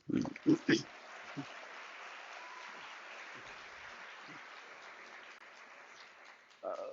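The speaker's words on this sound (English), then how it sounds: "I really, really want you to give a loud applaud to our academics" Graduation ceremony audience at a University of South Africa COVID-19 celebratory event applauds in a steady, even wash of clapping that lasts throughout, with a few louder voice bursts at the start and a voice returning at the end.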